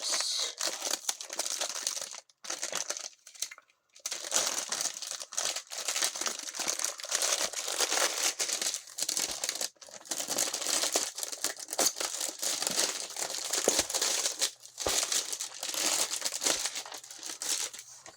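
Thick plastic wrap being peeled and crinkled off a diamond painting kit, a continuous run of loud, close crackling and crumpling with brief pauses and sharp tearing bursts.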